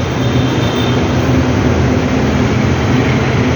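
A light rail train on the Manila LRT rumbles steadily throughout, a loud continuous low roar and rattle of wheels on track, with no talking.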